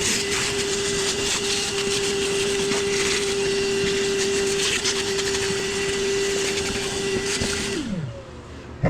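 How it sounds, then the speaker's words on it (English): Vacuum cleaner whining steadily up close while sucking powdery dust off a dusty Volkswagen Vanagon engine, a constant loud drone with a steady tone that winds down and drops in pitch near the end. "I'm gonna vacuum it out first."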